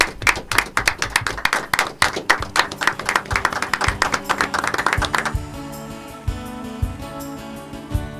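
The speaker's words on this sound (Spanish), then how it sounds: "nos despedimos con un aplauso" Studio audience claps to send off a guest on a Spanish-language youth talk show, a dense burst of handclaps for about five seconds that thins out, with music continuing underneath.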